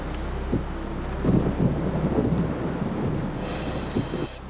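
Steady rain with rumbling thunder, gusty wind buffeting the microphone, and a few low thuds; no voices.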